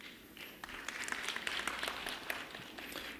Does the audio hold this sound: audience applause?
yes